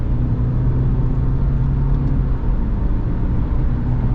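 Cabin view from a 2025 Subaru Forester Touring with a CVT as it accelerates: a steady low engine and road rumble with a smooth rising whir, no talking.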